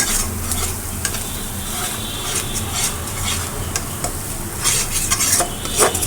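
Meat sizzles in a hot pan while being stirred with sour yogurt for biryani, with continuous frying crackle and repeated scraping and clinks of a spoon against the pot.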